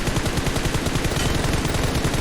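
Continuous automatic gunfire sprays in PUBG Mobile, a dense, loud, rapid stream of shots with no pauses across the whole stretch.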